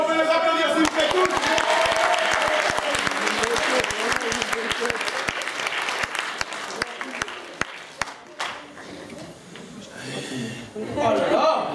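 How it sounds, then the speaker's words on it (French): An audience at a dance battle in Garches, 2017, breaks into sustained applause with some chuckling, the clapping thinning out before voices and more cheering rise at the end. "S'il vous plaît, on peut les applaudir, s'il vous plaît, tous."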